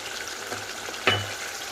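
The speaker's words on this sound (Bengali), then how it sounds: "একটু ভাজা ভাজা হয়ে আসছে, এখন আমি এক এক করে সব মশলা অ্যাড করে দিব" Ground coriander and other spices frying in a pan for chickpea curry, a soft steady sizzle with one brief sharper hiss as something drops in.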